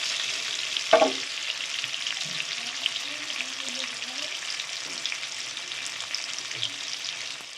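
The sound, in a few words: potatoes frying in oil for crab curry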